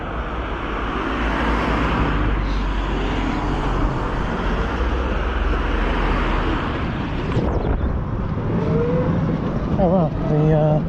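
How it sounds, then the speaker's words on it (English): A car approaches quickly along a road and rushes past, a broad roaring swell under steady wind noise buffeting the microphone, with a voice speaking briefly near the end. "Oh, this car's coming quite quickly."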